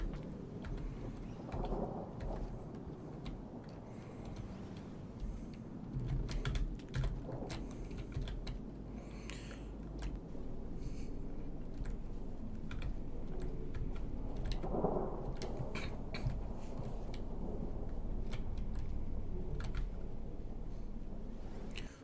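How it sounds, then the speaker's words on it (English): Low rolling thunder rumbles steadily through the rain-soaked ambience of the video game Rain World, a dense continuous roar with scattered sharp clicking on top and no talking. "I love hearing the thunder and stuff."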